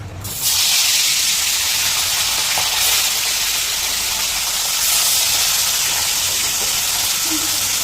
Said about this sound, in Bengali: এইবার আমরা মাছগুলোকে ভেজে নেব। তেলটাও দেখুন এখানে গরম হয়ে গেছে, এই যে ভেজে নেব